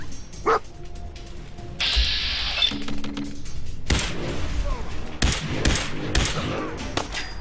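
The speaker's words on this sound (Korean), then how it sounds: "관통의 자동 인스티튜트 소총" An automatic Institute rifle fires in Fallout 4 on survival difficulty: several sharp, loud bursts of game gunfire arrive in quick, irregular succession, mixed with other in-game effects.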